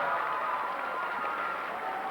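Basketball crowd applauding a made free throw by the Spartans in a packed high school gym, a steady, dense wash of clapping and cheering that holds evenly throughout.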